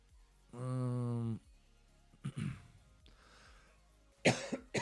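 A sustained hum, then several short, dry coughs nearby, spaced apart with quiet pauses between them.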